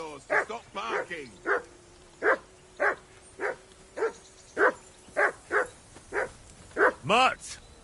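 A dog barks repeatedly in Kingdom Come: Deliverance 2, about a dozen loud, close barks in a quick uneven rhythm, ending with a higher, whiny yelp.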